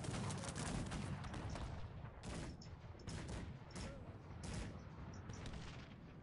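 Rapid, continuous bursts of booming gunfire and cannon blasts in a six-player multiplayer Cossacks 3 battle rattle on without pause, loud and dense, with sharper cracks every couple of seconds.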